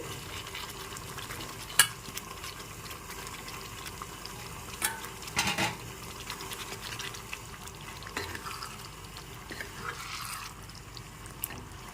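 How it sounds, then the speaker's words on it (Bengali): Potatoes being stirred into a spice mixture in a pan for a Bengali dahi aloo dum: a gentle ongoing sizzle with scattered scraping knocks of a spoon against the pan, a few louder clatters, no talking. "আলুগুলো দিয়ে ভালো করে মিশিয়ে নিতে হবে মশলার সাথে"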